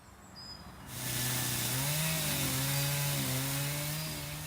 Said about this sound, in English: To retrieve a stem disc with a chainsaw, it is important to be well equipped.